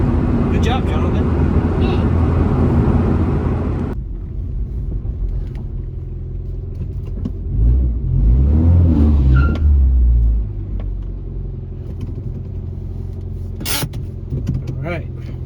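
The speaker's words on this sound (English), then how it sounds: "it definitely sounds like the intake is breathing more, which means the exhaust is allowing more exhaust gases out" A 1994-97 Honda Accord engine idles with a newly fitted exhaust header, a steady low rumble that swells briefly as it revs, heard close up with some background noise.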